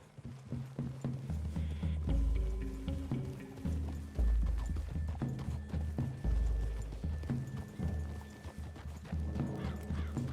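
Horse hooves clip-clop steadily at a walking pace in Red Dead Redemption 2, close and loud, with a horse whinnying partway through.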